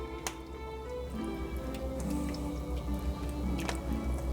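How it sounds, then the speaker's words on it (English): Spoon stirring cheesy chicken broccoli soup in a crock pot, with soft wet squishing and light clicks against the pot over a steady low hum. "And stir that up really good."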